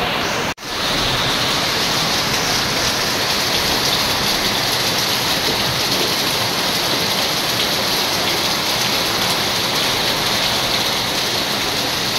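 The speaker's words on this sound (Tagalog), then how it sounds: "Super lakas ng ulan." Heavy rain pours down in a dense, continuous hiss, loud and unbroken, with a brief thump near the start.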